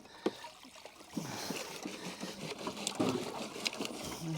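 Water runs and trickles through a gold rocker box, a close steady splashing wash with occasional knocks and gritty rattles from the gravel being worked.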